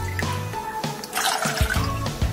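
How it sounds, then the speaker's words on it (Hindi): Water poured from a bowl into a pot while making sooji halwa with semolina and sugar, a close splashing and trickling pour with a few clunks of the vessel. "एक कटोरी सूजी है एक कटोरी चीनी और चार कटोरी पानी लेंगे"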